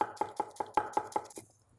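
A knife finely chopping purple cabbage on a board, eight quick, even, crisp chops close up in a steady rhythm before stopping.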